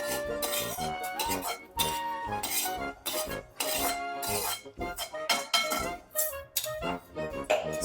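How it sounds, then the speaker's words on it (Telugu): Fried spices, including cumin, being scooped into a mixer jar: loud, close clinks, scrapes and clatters of a utensil against metal in irregular bursts separated by brief pauses. "ఇప్పుడు మిక్సీ జార్లో తీసేసుకుందాం."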